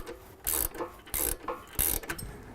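A ratchet wrench tightens a 13mm bolt while mounting Havoc Offroad HS3 black hoop steps on a Ford F-series SuperCrew pickup, giving three short bursts of rapid clicking separated by brief pauses, close and fairly loud.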